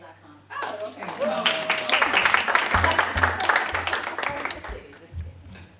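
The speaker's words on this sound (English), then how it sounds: "Y'all can clap for me as I come." Applause from an audience at a university alumni association annual meeting, a burst of clapping that swells and then fades over several seconds, mixed with voices and chatter.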